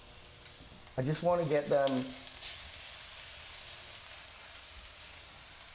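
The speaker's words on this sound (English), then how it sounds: "And then we're gonna get a little bit of a sizzle here." Food sizzles in canola oil in a pan in a restaurant kitchen, a soft steady hiss heard close up, with someone speaking briefly near the start.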